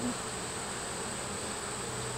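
Honey bees drone at a beehive in early spring, a dense continuous buzz of many insects at close range with no voices.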